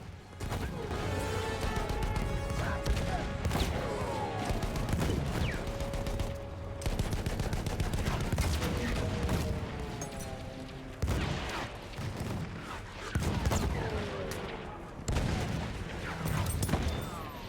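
Battlefield 1 heavy tank battle, a dense stretch of loud gunfire and explosions with sharp metallic pings and whining ricochets off tank armor, nearly continuous with brief lulls.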